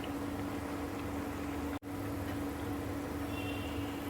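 Jackfruit seed and potato cutlets fry in a pan with oil, giving a steady, close sizzle and bubbling hiss that continues evenly, broken only by a momentary cut partway through.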